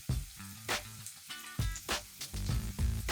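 Red onion hits hot steak juices in a pan and sizzles steadily, with the frying hiss broken by a few thuds and scrapes from stirring, close and moderately loud.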